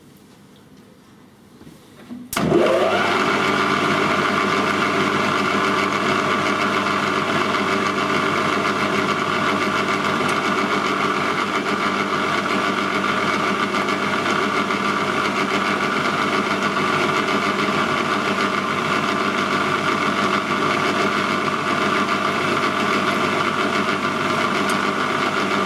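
A lathe with a 3-jaw chuck starts up and runs at steady speed while drilling with a centering bit, giving a constant close mechanical whir and hum that holds level throughout.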